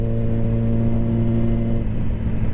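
A red motorcycle engine running close and loud on the road, a steady deep droning rumble with strong low harmonics that shift slightly near the end, no speech.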